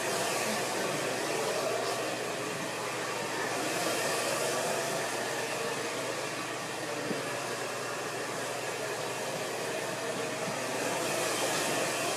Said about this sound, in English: when I'm blow drying around